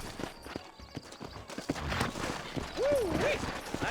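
Horse hooves clip-clopping steadily at a walk in the video game Red Dead Redemption, with a brief whinny and background voices mixed in.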